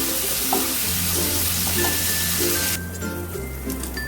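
Shrimp frying in a pan, a loud, constant close sizzle with light stirring noises, the hiss dropping sharply toward the end as the heat eases off.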